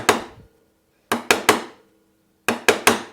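A hand chisel struck to chop a hinge mortise in wood: one sharp knock, a pause, then a quick run of three blows, another pause and three more, crisp and close with no talk.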